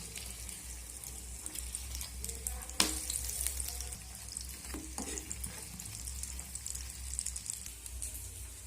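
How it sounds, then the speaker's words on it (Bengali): Potato chops deep frying in oil make a soft, steady bubbling sizzle, with a sharp clink partway through and a few small knocks, close and quiet, with no talk. "বাকি চপগুলো আমি একই রকমভাবে ভেজে নেব।"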